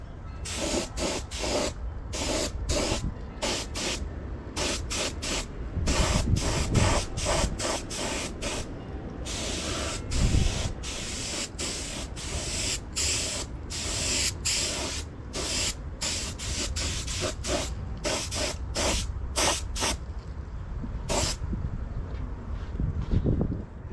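An aerosol can sprays paint onto a side cover of a 1972 Honda CB500 Four motorcycle outdoors on a windy day. The loud, close hissing bursts start and stop repeatedly, with no talk.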